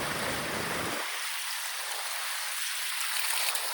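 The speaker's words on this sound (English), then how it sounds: "now water is running through" A small stream runs along a hiking trail in Skarðsdalur, northern Iceland, giving a steady close rush of water that fills the clip evenly, with no one speaking.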